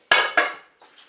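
Sausages and sauerkraut get mixed in a Cookeo multicooker pot: two sharp metallic utensil clanks against the pot, then a faint scrape.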